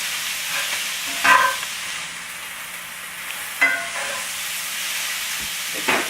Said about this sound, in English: And then stir that up a little bit.